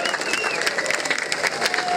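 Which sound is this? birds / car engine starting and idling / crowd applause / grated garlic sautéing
crowd applause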